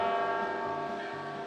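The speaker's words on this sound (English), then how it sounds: "there goes the bells" Church bells ring at St Peter's Basilica in Vatican City, a loud sustained metallic tolling with rich ringing overtones that slowly decays, heard outdoors without talking.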